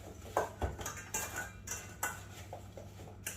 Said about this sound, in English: Don't want to mix it too much so it becomes a mush. Just make sure all the apples are coated.